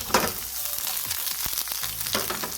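Chopped onions frying in a pan for a buko and patola vegetable dish, a steady close sizzle with a few sharp crackles and stirring scrapes across the short stretch, with no voices.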